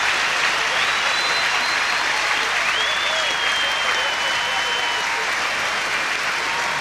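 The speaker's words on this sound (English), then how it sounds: "people can clap for as long as they like" A packed stadium crowd at the 1997 Optus Sydney Grand Prix athletics meet gives Carl Lewis a loud, sustained ovation, dense continuous clapping and cheering with a faint whistle riding on top.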